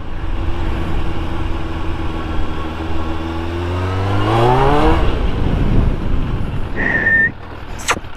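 A Suzuki Katana motorcycle idles loudly, then revs up with a rising, wavering engine note while riding back and forth to break in new tires, ending with a brief high tone and a sharp click.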